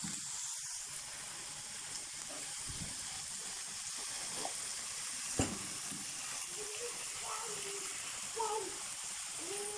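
Chicken breast pieces fry with onion and peppers in a pan for homemade shawarma, giving a faint, even sizzle throughout with a few soft stirring scrapes and clicks.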